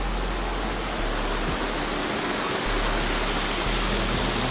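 Waterfall along a hiking trail, swollen after recent rain, roaring as a steady, dense wash of falling water close by, with no break in the sound and no talk over it.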